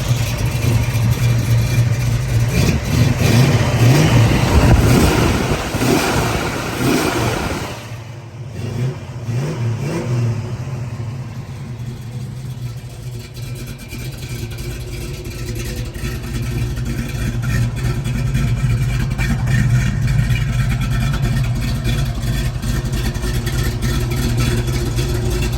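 A 1968 Shelby GT500KR with a 4-speed, running headers and Flowmaster exhaust, revs hard and loud for several seconds, dips briefly, then settles into a deep, steady rumbling idle.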